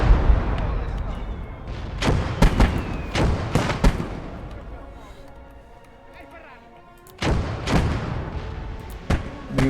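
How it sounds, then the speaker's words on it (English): Mortar fire booms in the World War I strategy game Blood Red Snow, heavy repeated blasts with sharp onsets and rumbling tails. The blasts come in clusters, loud and close, with a lull midway. "We've got mortar fire."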